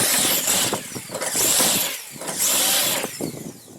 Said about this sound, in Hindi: ये देखिए इसको लगाया ड्रिल मशीन, टाइट कर लिया।